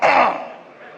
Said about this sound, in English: if I clear my throat the second time